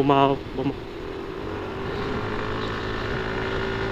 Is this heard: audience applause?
no